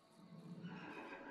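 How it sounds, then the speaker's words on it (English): A horse in a barn in the video game A Way Out lets out a single brief, faint whinny with a rising, wavering cry, heard alone without talk. "Yeah, that's horses."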